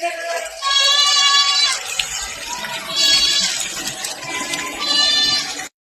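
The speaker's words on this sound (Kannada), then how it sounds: "ನೋಡಿ ಒಂದು 10 ಆಡು ಸಾಕೊಂಡಿದ್ದೀನಿ" Goats bleating on a small farm, three loud nearby bleats in a row with gaps between them, over faint background noise and no talk.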